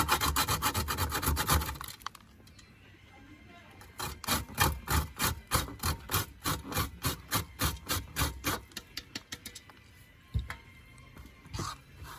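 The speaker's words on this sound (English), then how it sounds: "Get it in the grater." Allspice (pimento) berries grated on a hand grater while making allspice liqueur: a close, steady run of rhythmic rasping strokes, each one short and scraping, after a brief louder rub at the start, with no talking.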